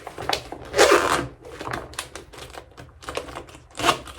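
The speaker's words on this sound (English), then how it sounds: "I'm gonna go ahead and zip this bad boy up" A toiletry bag zipped shut while packing for a business trip, giving several quick rasping zipper strokes up close, with short pauses between pulls and no talking.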